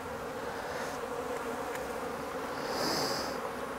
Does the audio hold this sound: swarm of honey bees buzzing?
yes